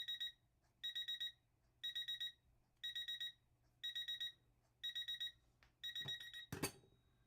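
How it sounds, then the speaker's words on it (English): A timer alarm goes off with quiet bursts of rapid beeping, repeating about every second, eight in a row, before a brief clatter near the end. "there goes my timer."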